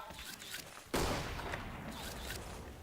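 Gunfire rattles in the shooting game X-Shot, a sudden loud burst of shots erupting about a second in, then continuing as a scattered fusillade of lighter reports fading slightly.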